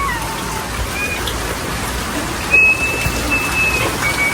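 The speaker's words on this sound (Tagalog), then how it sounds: "Inabot na po ng ulan." Steady rain falls outdoors at a fish pond area as a constant hiss with scattered drips, with faint chirps and a brief louder knock partway through.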